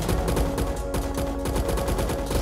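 Rapid bursts of gunfire ring out in a shooter video game, loud and continuous, with a dense rattle of repeated shots and no talk.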